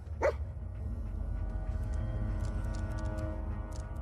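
Dogmeat, the dog companion in the video game Fallout 4, gives a single short yelping bark near the start, then steady game ambience hums on alone.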